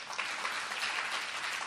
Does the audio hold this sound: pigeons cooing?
no